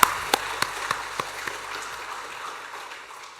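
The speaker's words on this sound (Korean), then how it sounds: "우리 박수로 한번 하나님께 영광 돌리겠습니다" A church congregation applauds together, a brief burst of several sharp claps in the first second that thins into scattered softer clapping and then trails off into quiet room tone.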